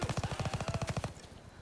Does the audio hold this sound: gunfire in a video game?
yes